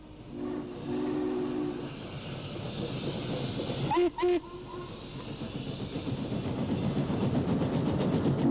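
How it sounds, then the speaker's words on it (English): Steam locomotives, a Class A hauling a freight and a J on a convention special, run side by side with heavy rumbling and chuffing, two short steam whistle blasts partway through, and a harmonic whistle near the start. "The Class A was again put at the head of a freight, while the J on the convention special steamed alongside."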